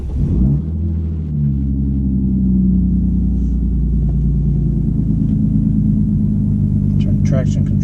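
A Genesis car with its muffler and resonator removed cranks to life and settles into a loud, deep, steady rumbling idle close by, while a person talks over it.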